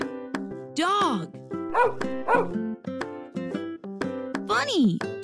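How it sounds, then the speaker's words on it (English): A dog in a children's animal-sounds song lets out a few sharp barks and yips that rise above a bouncy musical backing, with vocal-like tones blending into the mix. "Dog."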